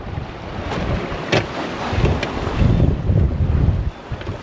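Steady wind and waves on a sailboat at sea in about 15 knots gusting to 18, with whitecaps. Constant broadband rush with a few louder gusts and splashes, no talking.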